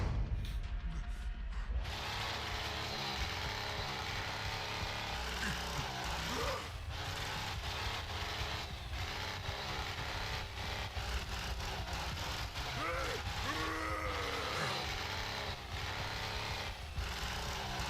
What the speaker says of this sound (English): Which chainsaw do you guys like more, this one or the like OG chainsaw?